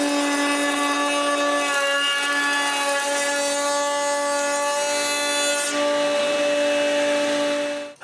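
A power tool cuts through wooden rails for a bathroom vanity, a steady high-pitched whine with strong tones held for about eight seconds before it cuts off abruptly.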